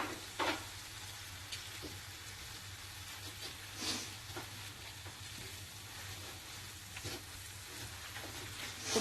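Minced meat sizzles in a pan on a gas stove, a quiet, steady frying hiss with occasional scraping stirs through it, and no one speaking.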